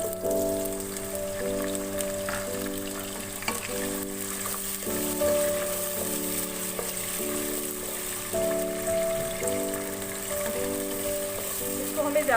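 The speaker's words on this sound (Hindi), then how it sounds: "घी गरम हो गया है। अब मैं इसके अंदर ये प्याज डालूंगी।" Finely chopped onions hit hot ghee in a pan and fry with a loud, continuous crackling sizzle, close up and steady, while someone talks and a stirring spoon scrapes now and then.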